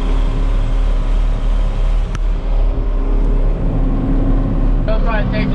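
Tractor driving home along a road toward a farm, a steady loud engine drone with low rumble throughout, joined by a brief burst of higher clatter near the end.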